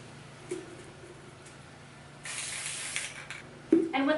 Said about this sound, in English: with spray paint, you just wanna like always keep it moving so that you're not getting blobs or anything